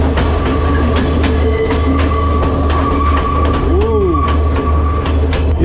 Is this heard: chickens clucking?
no